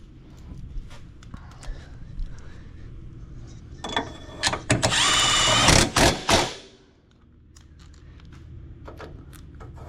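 A ratchet tightening bolts on a hitch under a 2023 Toyota Prius, rapid clicking bursts building into a loud stretch of fast ratcheting near the middle, then quieter.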